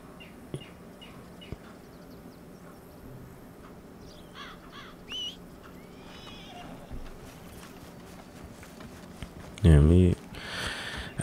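Hooves clip-clop faintly in a Red Dead Redemption 2 scene, with a horse whinnying and crows cawing; a loud burst near the end.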